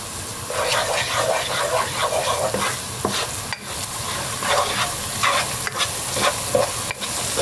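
Onion with a little turmeric sautéing in a pan for a lamb stew with green beans, a steady loud sizzle with scraping stir strokes running throughout, close and continuous with no talk.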